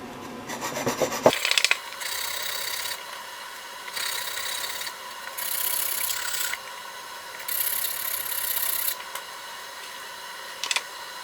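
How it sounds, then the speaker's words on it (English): Rhythmic rasping strokes of an 80-grit sanding block on wood, in several sustained passes with brief pauses between them, close and fairly loud. "you can use a sanding block with 80 grit."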